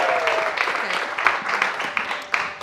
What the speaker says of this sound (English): applause for this beautiful lady over here